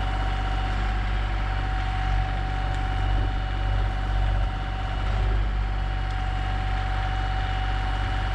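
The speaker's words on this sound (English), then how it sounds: "As you can see, even the tractor has a hard time with these big stumps." Tractor straining to pull out big tree stumps on dry ground, its engine droning steadily at a low idle-like labour close by, with a constant mechanical hum throughout and no talk.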